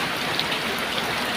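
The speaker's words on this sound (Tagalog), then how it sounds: "Grabe kusuga sa ulan guys." Heavy rain pours down in a steady, dense hiss of drops striking surfaces, loud and close with no voices over it.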